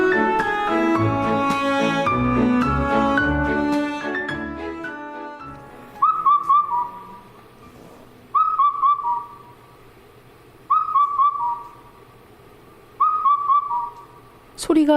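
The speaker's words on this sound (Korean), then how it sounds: "우리나라 높은 산에서만 들을 수 있다는 검은둥 뻐꾸기 소리입니다." A bird's clear whistled call, an Indian cuckoo in high mountains, repeats four times at even intervals, each a short phrase of descending notes, following a stretch of instrumental music.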